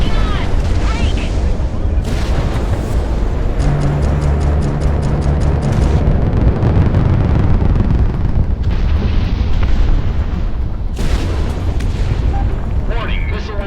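A missile launches in Project Wingman amid the loud, continuous roar of a jet and heavy booming blasts. A steady rapid ticking and a low tone mark a lock-on warning, and bursts of noise flare up near the start and end.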